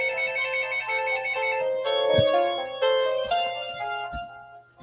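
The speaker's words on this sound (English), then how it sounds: "And there's my phone." A mobile phone ringtone plays nearby, a bright repeating melodic pattern sounding continuously and fairly loud with little else around it.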